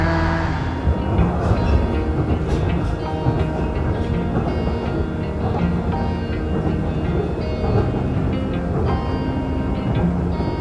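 Steady rumble and rattle inside a moving Japanese train carriage on the Nichinan line, with rhythmic clacking of wheels and a continuous low roar throughout.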